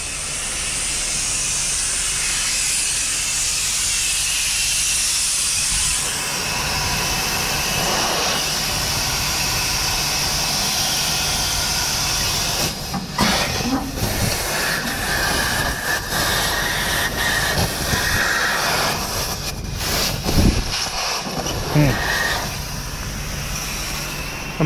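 A pressurized supply line leaks with a steady, loud broadband hiss that runs for several seconds and then gives way to a rougher, fluctuating rush broken by short bursts and clunks.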